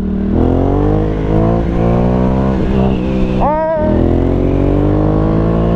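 Ducati Hypermotard 1100 Evo motorcycle accelerating through the gears: a loud, close engine with a rising pitch, a quick shift and renewed climb, and a brief voice exclamation.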